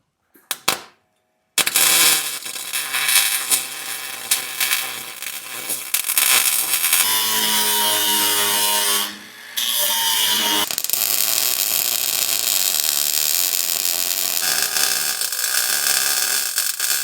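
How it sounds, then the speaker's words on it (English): A 110 volt welder crackles and buzzes loudly on a bumper for a 1937 Lincoln Zephyr, in long sustained sizzling bursts with brief pauses and tone shifts, close by with no talk. "I just want to say for a 110 volt welder, this thing is a ripper."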